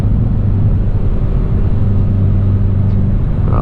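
Steady, close engine and exhaust drone with low road rumble from a Hyundai Veloster N on Pirelli tyres, driven at night around Charlotte; a constant, loud in-cabin hum runs without pause and no talk is heard.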